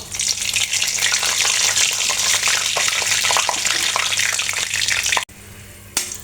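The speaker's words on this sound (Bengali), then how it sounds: "আমি এখন এখানে শুকনো মরিচ নিয়েছি, শুকনো মরিচগুলো ভেজে নেব" Dried red chillies sizzle and crackle vigorously in hot oil, a dense, loud frying hiss lasting about five seconds before cutting off abruptly, followed by a brief quieter crackle.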